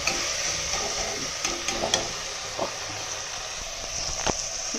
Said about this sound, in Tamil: தக்காளி நல்லா வத வதங்கட்டும் பச்சை வாசனை போக